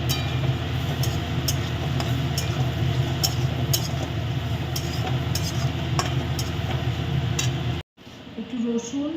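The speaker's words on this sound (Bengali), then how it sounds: "পেঁয়াজটা ভেজে নিয়ে এবার এর মধ্যে আমি টমেটোটা দিয়ে দেবো।" Onions and tomato fry in a pan with a dense, continuous sizzle and occasional utensil clinks. The sound cuts out abruptly near the end and returns more faintly.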